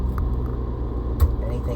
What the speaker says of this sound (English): let it idle out front with the hood open